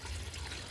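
Water poured into a tank holding catfish kept for natural breeding, a brief steady gush and trickle, close and continuous for under a second, with no voices.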